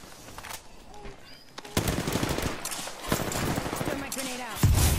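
Rapid bursts of automatic gunfire crackle through an Apex Legends firefight, starting sparse and building into dense, loud volleys with a sharp final shot. Faint voices can be heard underneath.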